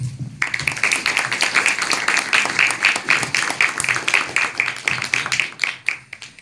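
Seminar audience in a hall clapping to welcome a speaker, a steady dense patter of hands that starts abruptly and fades slightly toward the end, with no talking.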